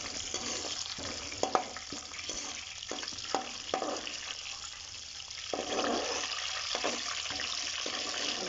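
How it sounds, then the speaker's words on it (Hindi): Coconut fries lightly in a pan with a steady sizzling hiss, broken by scattered scraping and stirring knocks at close range, with no talk. "साथ ही हम इसमें ये कोकोनट डाल देंगे, इसको भी साथ फ्राई"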